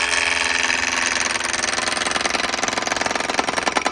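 Wood lathe spinning just below 1300 RPM while a spindle roughing gouge rounds down a walnut blank for a beer opener handle, a loud close continuous whir with rapid rhythmic chatter as the gouge bites, no talk.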